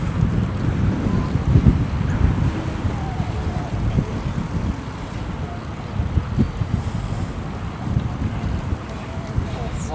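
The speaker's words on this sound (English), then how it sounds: "That headwind is always strong right here." Strong headwind buffets the microphone while cycling in a San Francisco park, giving a loud, constant low rumble with gusty swells throughout.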